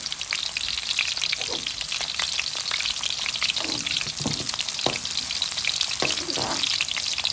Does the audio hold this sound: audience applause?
no